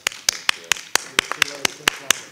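About a dozen sharp, evenly spaced claps ring out in a school board meeting room, loud and close, sounding like one or two people clapping rather than a full audience.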